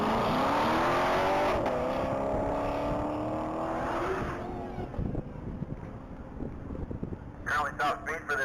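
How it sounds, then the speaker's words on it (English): A black 2014 Corvette Stingray at a Texas Mile top-speed run roars loudly with a rising engine note under heavy wind rush, then fades into the distance as faint clatter and background noise take over. "On deck is vehicle number 74. That's going to be a black 2014 Corvette Stingray"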